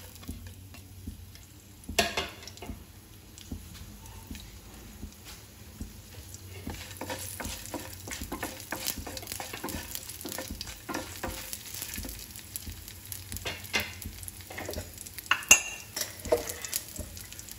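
Mustard and other tempering seeds, dried red chillies and garlic fry in hot oil in a pan, giving a steady low sizzle with scattered crackles and spoon scrapes against the metal, close and unvoiced.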